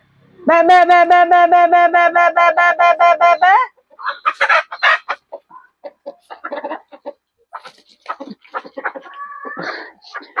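Free-ranging domestic chickens are heard up close: a loud, sustained crowing call first, then a run of irregular clucks and short squawks, with no talk over them.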